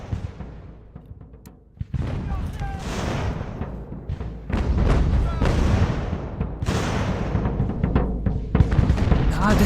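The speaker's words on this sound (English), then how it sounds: "This is a mortar." Mortar and artillery fire in Ultimate General: American Revolution, New York campaign battle: repeated heavy booms and blasts that swell and keep going over dense battle noise, with someone talking over the fighting.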